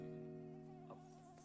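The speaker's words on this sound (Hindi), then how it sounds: "यहाँ पे मच्छर बहुत है." Mosquitoes whine steadily with a thin, high, continuous buzz, faint and close, with no talking over it.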